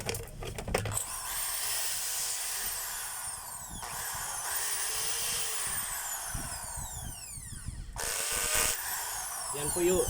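A power drill runs in hammer mode with a steady, loud whine and rapid hammering rattle that shifts speed several times over about ten seconds, close to the microphone, with a brief break near the end.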